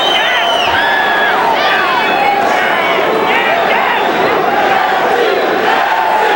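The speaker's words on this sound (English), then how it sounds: "chant of Jesse. Jesse goes up from the big crowd here at Memorial Coliseum." A big boxing crowd at Memorial Coliseum roars and chants the name Jesse, with rising and falling voices over a constant loud din that fills the whole stretch.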